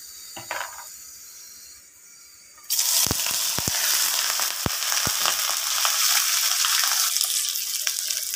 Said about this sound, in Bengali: তো এগুলো এখানে একটু পেঁয়াজ দিয়ে ভুনা করে ফেলবো।